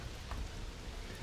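Rain pours in the video game Starfield, a steady soft hiss of falling drops with low rumble underneath, continuous and fairly faint with no voices over it.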